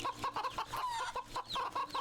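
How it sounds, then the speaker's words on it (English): Rooster and chickens in the video game Wytchwood, a barnyard flock clucking in a steady run of short, bright calls with a few sharper squawks, close and fairly loud with no talk over them. "A bunch of chickens. A rooster."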